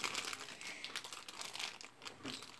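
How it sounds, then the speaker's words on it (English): A tough plastic bag being pulled open gives off rapid, close crinkling and rustling in irregular bursts, fairly quiet, with no speech. "This is a very tough plastic bag."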